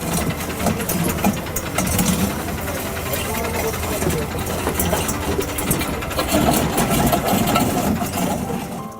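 A small engine-driven cono weeder for row-planted paddy rice runs steadily and loudly with a rough, busy drone, close by the whole time, with voices talking over it now and then.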